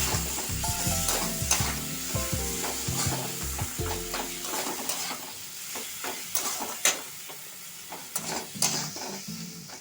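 Boiled, blended tomato puree is sautéed in a pan for chicken 65, with a steady close sizzle and repeated scraping stirs of a spatula against the metal, alongside low background tones early on.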